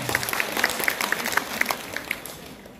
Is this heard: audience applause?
yes